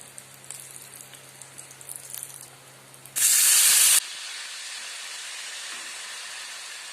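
A pressure cooker, cooked with banana stem for a sweet palya, being opened: a loud, sudden blast of steam hiss that runs under a second, then a quieter steady hiss afterward, with faint kitchen clatter before it.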